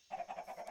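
A short series of video game sheep bleats, each a few tenths of a second long, clean and close, with no other sounds around them.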